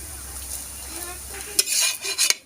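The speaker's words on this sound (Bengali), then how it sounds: "লাল লালভাবে আমি ভেজে নিয়েছি দেখুন হালকা লাল" Patisapta crepes with kheer and coconut filling lightly frying in a pan, a soft sizzle with spatula scrapes and a few sharp clinks of utensil against the pan toward the end, close and without talk.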